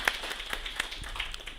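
Audience applause at a diaspora convention opening session, a short burst of scattered claps from a few hands, moderately faint in a large room with a steady background hum.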